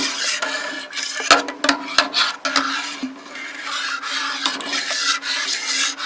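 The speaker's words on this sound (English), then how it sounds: "Let's stir that in." A utensil scrapes and rasps against a pot while banana mash for Ugandan waragi moonshine is stirred, with rough rubbing strokes and occasional sharp knocks in an uneven rhythm, close and fairly loud.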